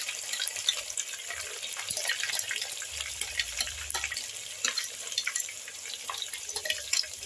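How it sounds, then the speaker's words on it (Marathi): Masala paste (vaatan) for misal frying in a generous amount of oil, giving a steady close hiss and crackle with scattered sharper pops. "हे पहा आता आपण तेलामध्ये ना वाटण टाकलेलं आहे."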